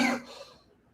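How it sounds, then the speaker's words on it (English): A person coughs once from eating food with too much chili, a loud, close, harsh burst that quickly fades into silence. "I put so much chili that I'm coughing"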